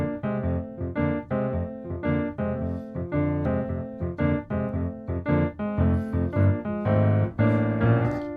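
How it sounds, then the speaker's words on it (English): A jazz blues shuffle groove in F plays alone as loud, clear rhythmic chords that alternate in a steady swung pattern, with a few higher accents near the end. "The first one is the blues shuffle"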